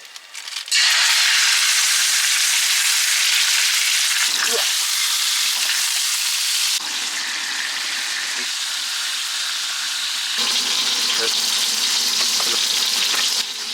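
Loud, continuous sizzling of hot oil as pork belly sears in a pan, with occasional stirring and clinks, steady throughout.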